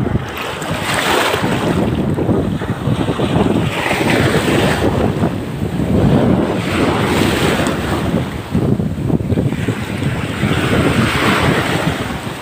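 Ocean waves roll and crash steadily, their surf blended with strong wind buffeting the microphone throughout.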